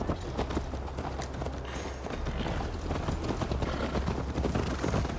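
A horse gallops steadily in Assassin's Creed Valhalla, its hooves clip-clopping in a fast, even rhythm close by that carries on for the whole stretch with no talking.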